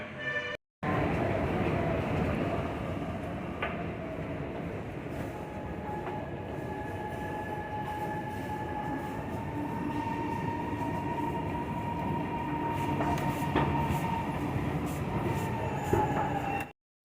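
A metro train rumbles steadily from inside, with rising whining motor tones, faint clicks of wheels on track, and brief squeals near the end; Chennai Metro, riding from Central to DMS.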